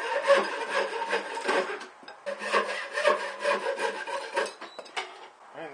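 Hand-sawing wood for a homemade solar panel case: rhythmic back-and-forth rasping strokes, close and fairly loud, in two runs separated by a short pause, with no talking.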